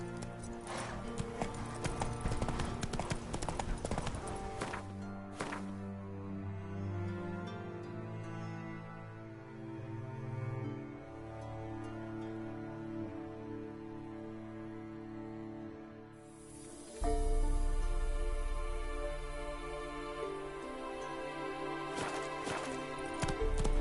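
A horse trots in The Witcher 3 on PS4: rhythmic hoof clip-clops over a bed of sustained orchestral game music, pausing briefly before resuming louder.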